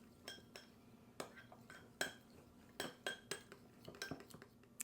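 A utensil stirs mayonnaise and maple syrup together in a bowl, giving a quiet run of irregular, sharp clinks and scrapes against the bowl's side, close by with no talking.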